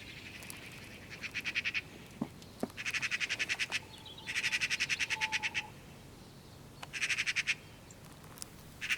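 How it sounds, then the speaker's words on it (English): Magpies chatter in rapid, rattling bursts, several harsh runs of calls repeating close by with brief quiet gaps between them. "This, of course, started a bit of a ruckus with the rest of the magpies."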